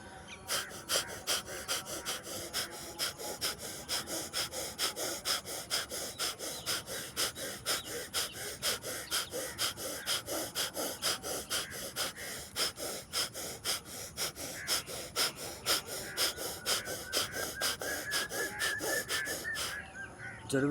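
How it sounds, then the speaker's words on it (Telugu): Steady, rhythmic deep breaths in and out during a home workout, each cycle close and fairly faint, repeating evenly for about twenty seconds without talk. "గట్టిగా గాలి ఊపిరి పీల్చుకొని వదలండి."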